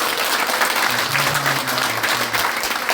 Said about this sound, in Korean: 감사하다고 박수로 환영하겠습니다